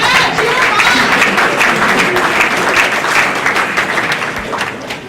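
A crowd at a fall orientation event applauds faculty and staff, steady dense clapping that holds for several seconds before tapering off slightly, loud and close.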